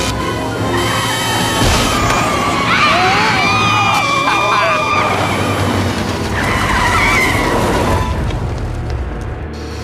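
Herbie the Volkswagen Beetle race car tears through a race with tyres skidding and squealing in long wavering screeches over a loud, continuous engine roar, close and intense, with booming impacts.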